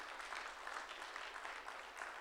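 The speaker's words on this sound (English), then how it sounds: "Round of applause, please." A university audience at the IIMBue 2016 event applauds, a steady wash of many hands clapping, sustained and fairly quiet throughout, with no talk over it.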